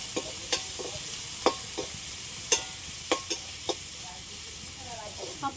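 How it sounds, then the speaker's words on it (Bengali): Garlic and chopped curry leaves fry lightly in a pan, cooked for Chicken 65, with a steady soft sizzle and a few sharp spoon clinks and stirring taps spread through. "সবগুলো একটু হালকা করে ভেজে নিয়েছি।"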